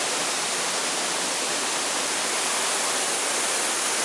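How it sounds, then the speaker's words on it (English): Muddy Creek Falls pours down in a steady, dense roar of falling water, loud and close, unbroken for the whole stretch with no voices. "Look at that water coming down."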